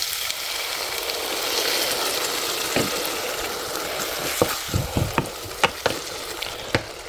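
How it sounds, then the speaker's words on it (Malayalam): Tamarind water poured into shallots frying in oil, a steady dense sizzle with sharp crackles and pops growing more frequent toward the end, close up and without talk. "ഞാൻ പുളി ഒഴിച്ച് കൊടുക്കുവാണേ"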